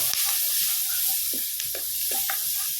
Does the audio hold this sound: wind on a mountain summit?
no